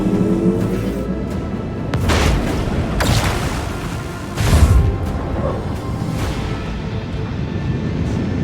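Macro cannons in the video game Warhammer 40k: Rogue Trader fire in loud successive booms with rumbling tails, several heavy blasts spaced a second or so apart over continuous low battle noise.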